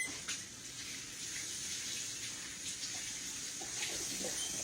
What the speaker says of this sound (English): now let me wash my hands off over here